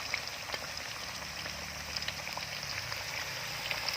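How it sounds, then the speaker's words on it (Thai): Steady bubbling sizzle of durian frying in hot oil, a dense crackle with scattered pops, close and continuous, no voices. "วันนี้ ทอด อ่า ทุเรียนครับ"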